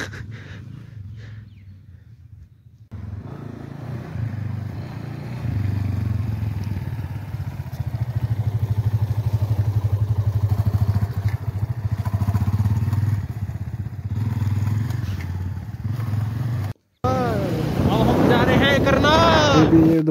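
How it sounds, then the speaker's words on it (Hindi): A motorbike ridden along a road toward Karnal, its engine a steady close drone with strong wind buffeting the microphone, a short dropout near the end, then a brief burst of tonal whine or voice-like sound. "फिर ये मेरी बाइक चलाने लग गया"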